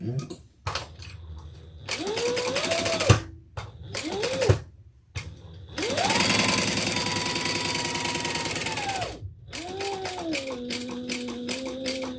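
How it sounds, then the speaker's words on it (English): A sewing machine stitching around the outside of a handbag, running in several motor bursts with pitch rising and falling as it speeds up and slows, the longest run steady for a few seconds, close and clear between pauses. "Then we're going to stitch around the outside"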